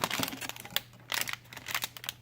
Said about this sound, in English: it comes in these nice,